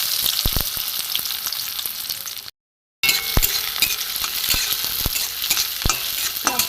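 Chopped onions frying in hot mustard oil in a kadai, a loud continuous sizzle with repeated metal spatula scrapes and knocks, briefly cut to silence midway, no voices.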